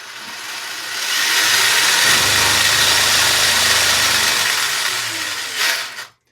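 A Ryft kart with a two-speed conversion running in low gear, its engine rising to a steady loud drone that holds for several seconds, then fades out near the end.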